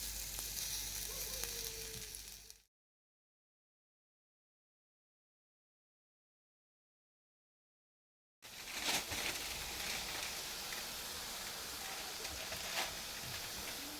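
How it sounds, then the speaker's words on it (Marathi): Colocasia leaf vadi slices fry in oil on a hot flat griddle, a close hissing sizzle that cuts out to silence midway and then resumes just as steadily. "मी टाकते त्याच्यामध्ये हे तेल आणि आपण वडी टाकणार त्याच्यामध्ये."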